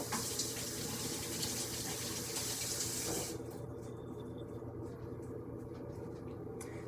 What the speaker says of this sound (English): I'm gonna wash my hands out.